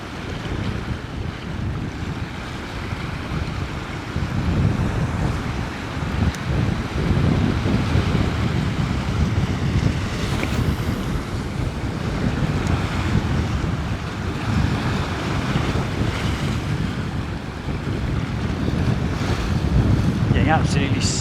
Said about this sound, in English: it's just as it's breaking over the breakwater, it's just absolutely battering me